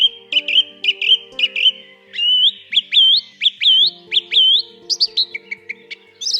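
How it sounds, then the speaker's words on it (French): A song thrush sings in early February, giving clear, loud, repeated phrases of sharp whistled notes and chirps with brief pauses between them. A faint low tone runs underneath. "Chant de la Grive au 2 février"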